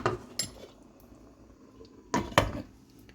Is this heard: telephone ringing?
no